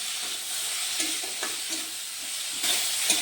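Chopped tomatoes sauté in a pan for a Bengali lote fish curry, a dense, steady sizzle close by with faint scraping taps of a spatula stirring now and then, no voices present.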